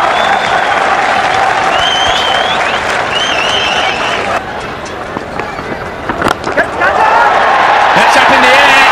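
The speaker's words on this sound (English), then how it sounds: "Listen to that crowd now." Packed cricket stadium crowd at an India versus Pakistan one-day international erupting after a catch, loud sustained roar with whistles and horns, dipping briefly then swelling again, with a commentator talking over it.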